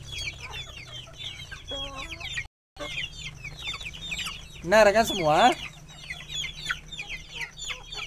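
Chickens cluck in a poultry flock, a busy mix of short calls and a louder burst of squawking partway through, while someone talks over them.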